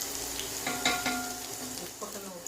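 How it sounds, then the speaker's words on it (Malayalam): Oil poured into a hot pan while making Kerala-style beef dry fry crackles and sizzles, with a few sharp spits and pops over a continuous frying hiss. "ഓയിൽ ഒഴിച്ച് കൊടുക്കാം."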